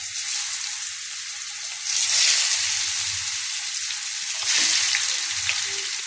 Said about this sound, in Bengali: তেলটা গরম হয়ে গেছে, এখন মাছগুলা এক এক করে দিয়ে দেব।